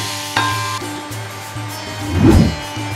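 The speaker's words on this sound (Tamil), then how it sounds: "தேங்காய் ஒரு 2 கரண்டி போட்டுக்குவோம். நல்லா வதங்கிட்டு ஆறட்டும்." Grated coconut sautéing in a pan for capsicum chammanthi, a soft steady sizzle with a louder stirring scrape near the end, close and with no speech.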